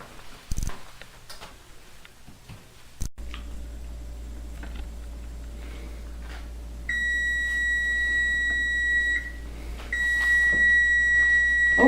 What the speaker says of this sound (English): that's our buzzer